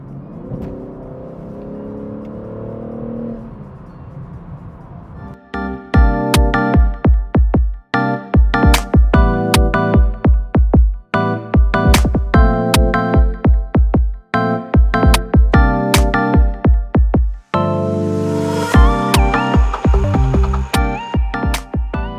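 A BMW M3 engine revving hard while driving through a corner, loud and close, with a steady hum at first, then repeated surging revs broken by quick gear-change dips, and a final higher rising pull.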